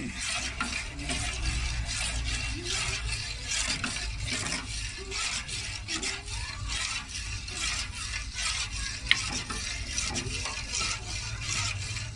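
A pot of water and sago starch stirred on a stove while making lod chong: a steady, close scraping and swishing with a faint bubbling bed underneath, continuous throughout with no talking.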